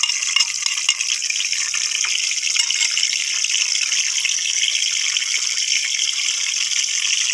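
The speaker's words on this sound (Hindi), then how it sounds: "अब हम बारीक कटा हुआ एक प्याज रखा हुआ है वो डाल देंगे" Finely chopped onion and green chillies land in a hot pan and set off a loud, steady, close sizzle that hisses evenly without pause.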